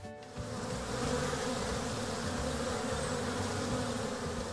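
A bee gathering pollen on an apple tree buzzes continuously and loudly close by, a steady droning hum rising after a quiet start and holding for several seconds.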